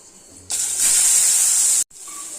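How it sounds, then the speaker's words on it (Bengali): Potato pieces hit hot oil in a pan just used for frying fish, bursting into a loud, close hiss that holds steady, cuts off abruptly, then resumes as a softer sizzle. "এই তেলের মধ্যেই আমি আলুগুলো দিয়ে নেব।"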